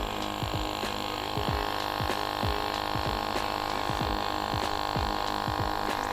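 An Auhma/Rever cordless air compressor pumping air, giving a loud, steady motor hum with a fast throbbing pulse from each piston stroke, running continuously and alone.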